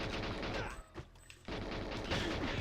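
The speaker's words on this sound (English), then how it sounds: "I should really just be using the machine guns." Rapid automatic gunfire from a machine gun in the video game GoldenEye rattles in dense bursts, broken by a brief lull near the middle, then resuming just as fast; no voices.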